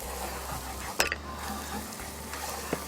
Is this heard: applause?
no